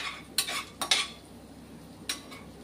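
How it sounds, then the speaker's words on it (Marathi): Garlic is sautéed in a pan for white sauce pasta, heard as three short scraping clatters of a spoon against the pan over a faint background hiss. "वास जाईपर्यंत, फक्त कच्चा वास जाईपर्यंत त्याला आपण परतून घ्यायची चांगली."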